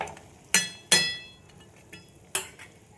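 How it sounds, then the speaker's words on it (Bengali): Metal lid set onto a pan of soybean curry with a few sharp clinks and clanks, two close hits early then a lighter knock and another clink later, no talking. "এবার একটু ঢাকা দিয়ে দেবো"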